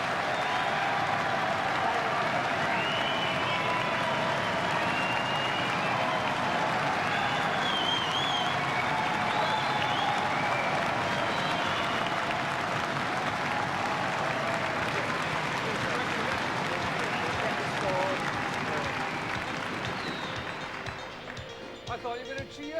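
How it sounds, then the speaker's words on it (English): A snooker event audience gives Terry Griffiths a long, sustained round of applause, dense steady clapping with some cheering and crowd voices, holding for over twenty seconds before easing off at the end. "Ladies and gentlemen, your voted applause for Terry Griffiths."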